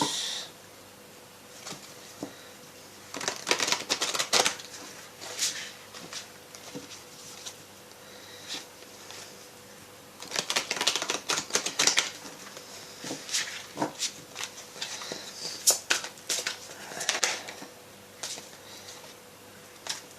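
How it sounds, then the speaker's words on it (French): A deck of tarot cards is shuffled by hand, giving irregular bursts of crisp riffling and sliding card noise, close and fairly quiet, with brief pauses between shuffles and no talking. "Alors, je vais brasser un peu plus."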